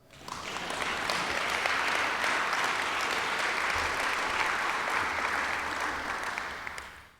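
Audience applause at a school district success planning press conference, a steady wash of many clapping hands that swells quickly, holds evenly for several seconds and then fades, heard alone without talk.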